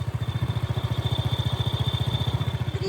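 A motorcycle engine idles with a fast, steady pulsing rhythm and a thin grinding whine riding on top, loud and close.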